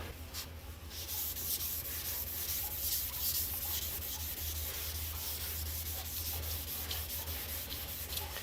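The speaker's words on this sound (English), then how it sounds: "this problem with wet sanding, it makes a mess" Continuous close-up wet sanding of primer, a steady rough rubbing hiss with faint rhythmic strokes, running unbroken throughout without speech.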